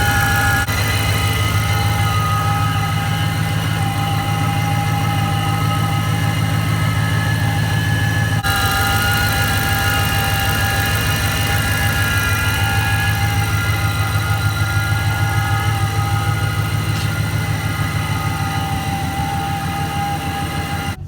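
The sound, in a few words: Ram 1500 engine with ProCharger supercharger idling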